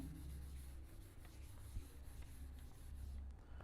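Continuous rubbing and scrubbing strokes of an eraser wiping writing off a board during an electrostatics lesson, close and steady with a few soft knocks.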